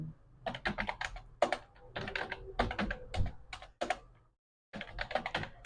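Rapid clicking on a computer keyboard as data is typed into an Excel weekly attendance sheet, with close, dense bursts of keystrokes, one brief pause near the end, then more typing.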